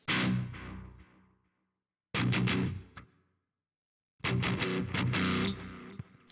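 High-gain metal guitar played through a BOSS GX-100 with space echo delay and a small reverb: three bursts of heavily distorted, chugging riffs, each ending in a decaying tail before a short silence.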